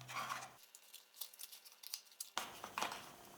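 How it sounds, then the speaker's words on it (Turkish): A Broadlink RM mini product box being opened close up: dry cutting and snipping sounds, then crisp cardboard and plastic rustles and scrapes in a quiet room with no talking. "Kutuyu şu şekilde açıyoruz."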